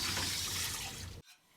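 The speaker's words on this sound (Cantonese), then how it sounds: "鑊洗乾淨" Running tap water splashing into a wok as it is rinsed clean while cooking spicy squid, a close, steady hiss of water that stops abruptly after about a second.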